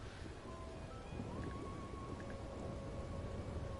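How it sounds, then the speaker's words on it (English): Steady rain falls in Red Dead Online, a dense, continuous hiss of drops on the ground with soft music tones drifting in the background, no voices present. "I'm kind of enjoying standing in the rain with the Madame Nazar music in the back"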